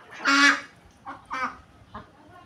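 A flock of white domestic ducks kept at a flood-surrounded homestead gives several short, loud quacking calls in separate bursts, fairly close and with no talk.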